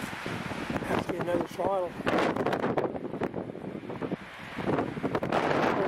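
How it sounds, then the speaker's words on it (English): Strong wind buffeting the microphone outdoors at a bush campsite, a loud rumbling roar rising and falling in gusts, with someone talking over it. "It's pretty freaking windy up here."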